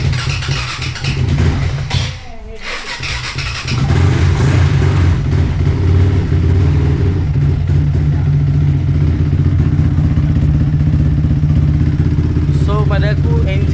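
A Yamaha Y15 motorcycle engine, long parked with a weak battery, cranks briefly, then catches and settles into a steady, loud idle rumble that continues to the end.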